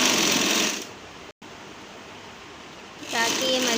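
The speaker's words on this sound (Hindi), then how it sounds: "अब हम इसकी डबल सिलाई करेंगे" A sewing machine double stitches a kurti in two short runs of dense, steady whirring at the start and end, with a quieter stretch between them and a voice at the close.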